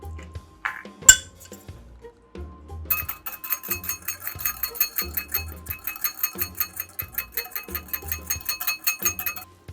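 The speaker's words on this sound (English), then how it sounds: "this whisk is way too big for this bowl, but I'm just going to try to give it a little bit of a mix" A whisk clinks rapidly and rhythmically against a small bowl, mixing dressing as olive oil is added, a steady, close metallic tapping with a few softer knocks at the start.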